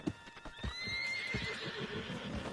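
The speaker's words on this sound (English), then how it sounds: "Put the straps on the back of John's horse" A horse in a video game whinnies loudly, with clip-clopping hooves around it and faint background ambience.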